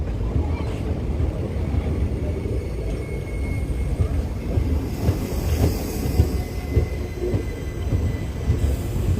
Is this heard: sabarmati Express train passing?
yes